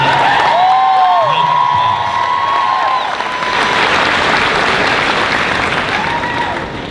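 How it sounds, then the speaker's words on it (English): A graduation ceremony audience applauds loudly and steadily, many hands clapping at once, with whoops and cheers rising from the crowd. "Please give Colby a round of applause"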